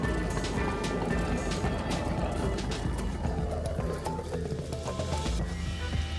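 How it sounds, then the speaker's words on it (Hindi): Steady rain falls around the Hiroshima Bomb Dome on a busy Monday, a dense continuous hiss with scattered drops and crowd bustle underneath, fairly loud throughout. "बारिश भी हो रही है"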